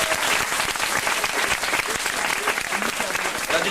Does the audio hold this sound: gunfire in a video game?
no